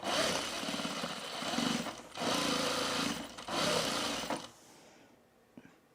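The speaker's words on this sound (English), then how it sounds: "I'm gonna pick it up like this and sew around the perimeter and enclose the stitch," A home sewing machine runs in steady bursts while stitching around the perimeter of a cargo shorts pocket, with short pauses between runs, then stops, leaving a quiet tail with a faint click.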